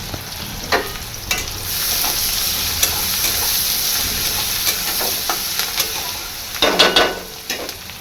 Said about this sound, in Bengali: আর এখানে পেঁয়াজ ভাজছি। পেঁয়াজটা ভাজা ভাজা হয়ে গেলে মাংসটা একটু ভেজে নেব।